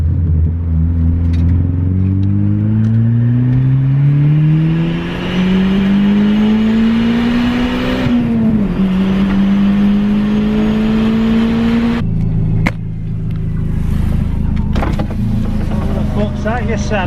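A car fitted with an eBay turbo and Brembo brakes is driven hard. Loud engine drone climbs steadily through the gears, dips at a shift, and climbs again, with people talking over it.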